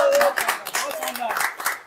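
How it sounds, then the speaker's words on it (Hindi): Lively clapping from a group applauds a schoolgirl at a 12th-grade science results celebration, a brief, dense burst of hand claps up close. "बहुत जोरदार तालियां बच्ची के लिए"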